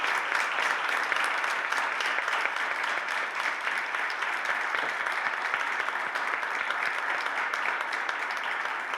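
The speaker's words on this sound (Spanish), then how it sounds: "vamos a despedirte con un fuerte aplauso" A fairly distant audience applauds a writer at a book event, clapping in a dense, even burst that carries on for about nine seconds with no voices over it.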